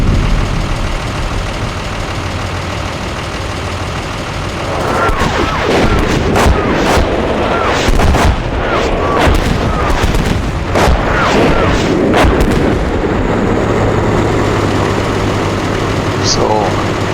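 Artillery fire in the Steel Beasts Pro PE tank simulator, a Russian attack in northeast Ukraine, comes as a run of dull booms and blasts over a steady low engine idle, with talk running through the battle noise.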